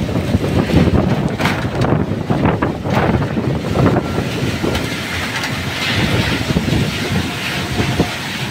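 Strong typhoon wind from Typhoon Carina roars and buffets steadily among fallen trees in Intramuros, a loud, continuous gusting rumble with no voices.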